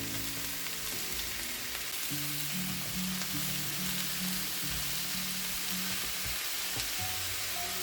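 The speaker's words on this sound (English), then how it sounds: "Sauté the mushrooms until golden brown." Mushrooms sauté with onions and garlic in a pan, giving a constant close sizzle and hiss with occasional stirring scrapes.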